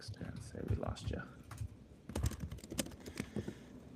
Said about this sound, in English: We heard the entire typing and then the sent message.